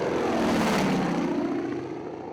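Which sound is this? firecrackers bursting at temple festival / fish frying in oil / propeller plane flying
propeller plane flying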